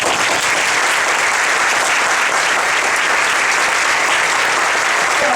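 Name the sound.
audience applause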